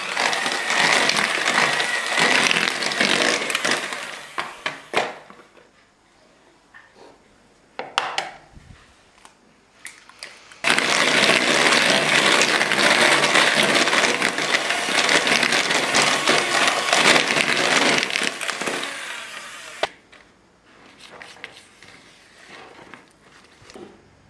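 An electric mixer beats an egg into creamed cookie dough for orange chipotle cookies, whirring and rattling loudly in two long bursts separated by a short pause with softer clatter, then a quieter final stretch.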